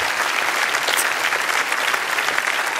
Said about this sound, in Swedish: Publiken jublar.